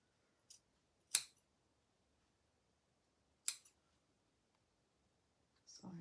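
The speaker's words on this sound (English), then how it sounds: "I'm going to cut into those two corners there." Scissors snip into the fabric corners of an in-the-hoop heart oven mitt, giving a few sharp, quiet, isolated cuts spaced apart in a quiet room. Faint handling noise follows at the end.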